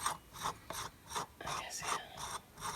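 A ratchet with a 13 mm deep socket loosens a rusty nut on a 1987 Pontiac Fiero 2.8L V6, about eight quick rasping clicks in an even back-and-forth rhythm, close and fairly quiet.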